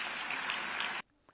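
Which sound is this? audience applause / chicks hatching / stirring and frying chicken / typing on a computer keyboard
audience applause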